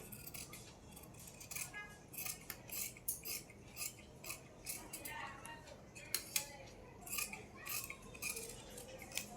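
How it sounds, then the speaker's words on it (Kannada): Scissors cut through blouse sleeve fabric in a run of soft, quick snips and clicks up close, with a person talking quietly alongside. "ಈಗ ಇದನ್ನ ಕಟ್ ಮಾಡ್ಕೋತಾ ಇದ್ದೀನಿ ನೋಡಿ"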